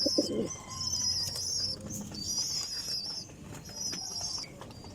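Pigeons cooing softly nearby in a loft with new breeders, low repeated coos amid chirps, occasional wing flaps and a faint high-pitched hiss.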